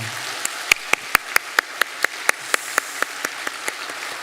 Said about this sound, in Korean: 박수로 환영하도록 하겠습니다